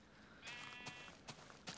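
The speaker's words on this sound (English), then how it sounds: "There's a sheep down there." Sheep bleating in the Minecraft video game, a wavering tonal bleat over steady background noise, followed by a few short soft thumps.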